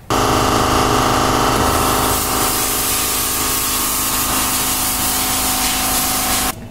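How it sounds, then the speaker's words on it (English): An angle grinder grinds steel while subframe connectors are fabricated for an AMC Javelin, giving a loud, continuous, harsh whine with hissing that holds steady for several seconds before cutting off at the end. "It's already cold to the touch, but you got to finish grinding."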